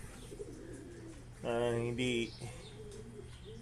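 A pet parrot near its cage gives a short, clear, tonal call in two quick parts, close by, with soft background voices and room noise before and after.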